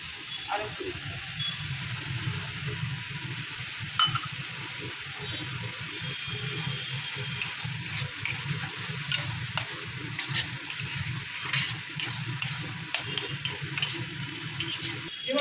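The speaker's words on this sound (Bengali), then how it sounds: "ভালো করে দুধের সঙ্গে একদম আবার ভালো করে কষে নেব যতক্ষণ না দুধটা শুকিয়ে যাচ্ছে ততক্ষণ রান্না করে নেব" Bottle gourd shukto stir-fried with thick Amul Gold milk in a pan, a steady close sizzle under repeated scraping and stirring of a spatula for about fifteen seconds, with no one talking.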